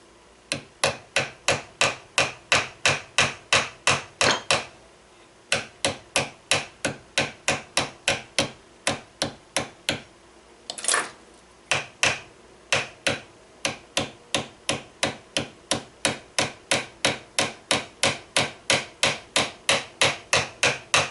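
A steady series of sharp metal taps from a punch lightly driving wire down in a gunsmith's workshop, dozens of even blows with a brief pause around the middle, close and clear with no talking.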